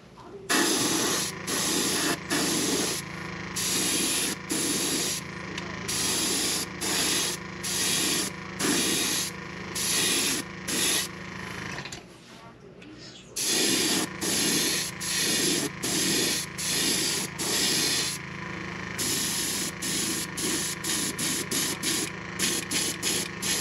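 Airbrush and compressor spraying paint onto a crankbait in a craw pattern, with rhythmic repeated bursts of hissing spray and a brief pause midway, close and steady in loudness.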